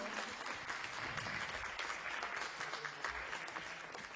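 Audience applause at the Books for Peace 2020 Nardi award ceremony, a steady wash of clapping hands that carries on evenly for about four seconds, fairly distant and moderately soft with no voices on top.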